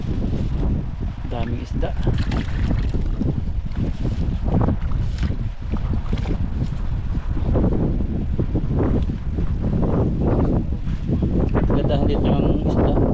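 Steady rushing wind buffets the microphone throughout, with people talking over the constant roar outdoors while fishing with nets.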